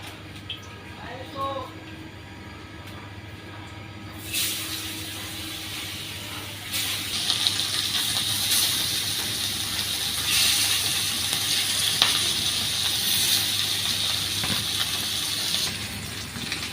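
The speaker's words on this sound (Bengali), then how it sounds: "মাছগুলো ভেজে নিই" Fish frying in hot oil in a village kitchen pan gives a quiet start, then a broad sizzling hiss that swells after a few seconds and stays steady and fairly loud to the end.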